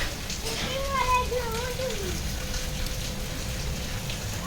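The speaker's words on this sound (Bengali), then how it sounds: "আর এর মধ্যে শুরু হয়েছে ঝুম বৃষ্টি" Heavy rain pours steadily at a home during cooking for a feast, a dense constant hiss throughout, with children's voices and talk rising over it early on.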